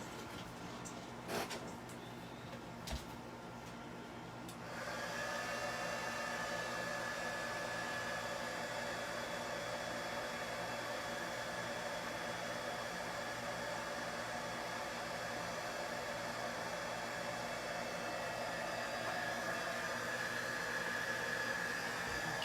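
Heat gun switches on after a few faint knocks and then blows with a steady, fairly quiet airy whoosh that holds evenly for the rest of the stretch, with no talk over it.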